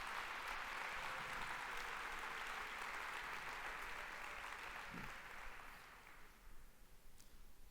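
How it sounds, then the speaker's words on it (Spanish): Sustained applause from a church congregation fills the room, steady and dense before thinning out toward the end, with a brief low thump partway through. "Dale un fuerte aplauso a Dios"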